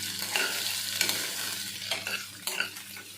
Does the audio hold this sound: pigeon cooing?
no